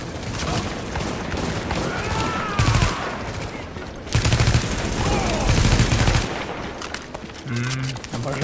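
Gunfire in the co-op shooter Tom Clancy's The Division, with rapid bursts and heavy volleys of automatic fire, near and loud, punctuated by a few louder blasts, while someone talks over it.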